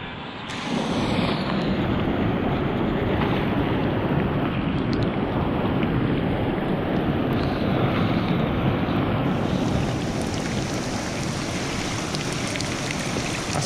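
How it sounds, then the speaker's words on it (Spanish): Floodwater rushes through a swollen forest ravine stream as a loud, steady, broadband roar close at hand, and no one speaks over it. "este barranco está de crecida, hay que tener muchísimo cuidado a la hora de cruzarlo"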